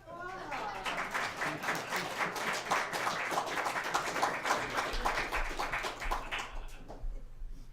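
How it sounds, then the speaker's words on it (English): Steady audience applause at a live music performance, a dense, even wash of clapping that holds for several seconds before thinning out near the end. "if I could have my applause in advance"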